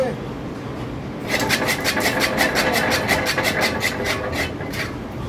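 A Tiger chopper machine fires up with a rising mechanical rumble, then settles into a steady running clatter with rapid rhythmic beats, loud and close throughout.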